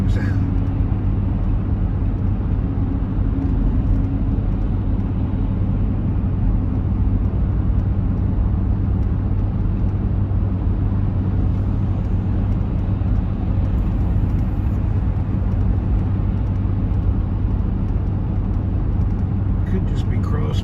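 Continuous low droning hum inside a moving car, suspected to be a worn wheel bearing, with wind noise around the windows, holding steady and loud throughout.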